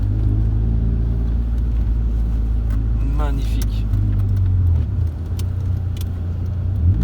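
A sports car engine gives a loud, steady low rumble from inside or near the car, building slightly as it accelerates, while a person briefly speaks over it.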